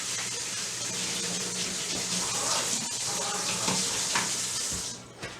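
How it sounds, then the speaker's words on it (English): Hands rinsed under a running kitchen tap, a steady close hiss of flowing water splashing in a sink that stops abruptly near the end, while a skillet sizzles faintly nearby. "so now I'm gonna rinse my hands. I'm gonna wash them with some soap"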